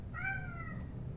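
A single short cat meow in the video game The Sinking City, faint and fairly close over low background hum, with no talking.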